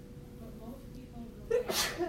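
A single sharp sneeze bursts out close by during ongoing conversation, a brief loud explosive puff cutting across the steady talk.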